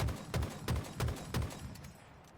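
Bandit Evo rifle firing in a video game, a quick burst of four sharp, evenly spaced shots up close, each with a short booming tail, then a fading echo.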